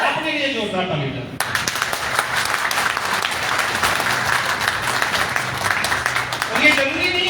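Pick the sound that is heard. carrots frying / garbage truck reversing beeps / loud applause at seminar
loud applause at seminar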